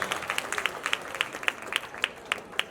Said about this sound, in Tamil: கைத்தட்ட மாட்டீங்களா